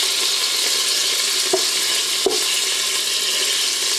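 Beef and canned carrots fry in a pan with a steady, loud sizzle throughout, interrupted by a couple of brief scrapes as the food is stirred.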